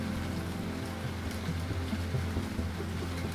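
Steady heavy rain pours down, a dense continuous hiss of drops drumming on surfaces nearby, with no voices.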